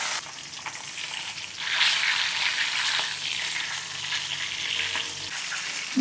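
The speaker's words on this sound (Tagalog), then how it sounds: "Mas okay po i-prito itong tilapia hindi sa matilamsik" Tilapia frying in hot oil, a steady, fairly loud hiss and crackle of sizzling that swells slightly midway and continues throughout without talk.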